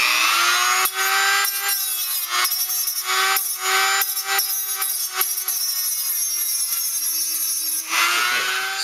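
A power tool drills and sands holes in an Xbox 360 X-clamp, giving a steady, loud, close whine with a few brief breaks and scraping texture.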